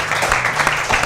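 A studio audience claps briefly and fairly loudly at a talk-show game segment, a short dense burst of applause.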